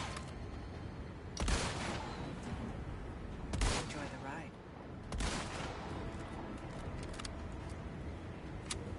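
Pistol gunfire in the Resident Evil 4 Separate Ways game, a few sharp shots spaced seconds apart over a steady background, with voices talking.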